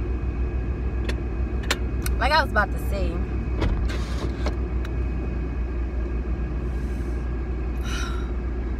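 A car engine idles on a hot day to cool down, a steady low rumble running throughout, close by, with a person talking over it.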